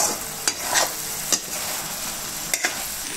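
Spices and coriander powder stirred in a hot pan for a South Indian drumstick curry, a constant close sizzle punctuated by a few sharp scrapes of the spoon against the pan.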